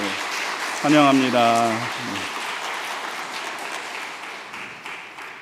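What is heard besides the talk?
congregation applause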